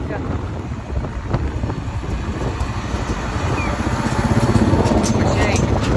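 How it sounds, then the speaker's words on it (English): A tractor pulling an 8-row maize planter rumbles steadily across a field, its engine noise mixed with gusty wind buffeting and slowly growing louder as it approaches. "Yeah, nice tractor."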